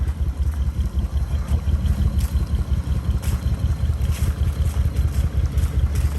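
A smoking 2001 Lexus IS300 engine runs rough, giving a loud, close, low rumbling drone with uneven rapid pulsing throughout and a windy, noisy texture over it. No one speaks.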